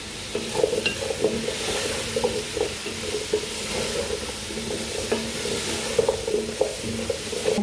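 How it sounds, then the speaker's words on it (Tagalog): Vegetables with celery sautéing in a hot pan, a steady loud sizzle with repeated stirring scrapes, no voices. "Saute lang natin siya."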